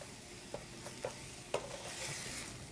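Ground turkey browns in a pan, with a soft, faint sizzle and a few light stirring clicks, the hiss swelling slightly toward the end.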